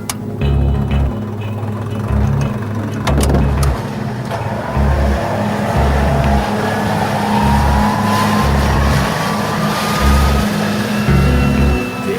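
A Whittle jet engine is started up and run, giving a loud, steady roar with a rising whine layered over a rhythmic low pulsing throughout.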